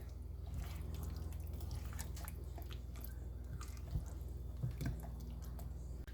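Chicken marinade is mixed with a cup of yogurt, giving faint, wet squelching and squishing sounds over a steady low hum, with no talking.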